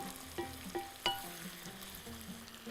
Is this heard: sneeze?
no